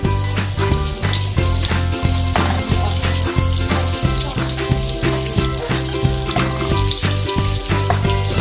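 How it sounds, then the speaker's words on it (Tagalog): Butter melting into oil in a preheated frying pan gives a loud, steady sizzle up close, with crackling pops and faint clinks scattered through it. "Put some oil on the pan and add some butter."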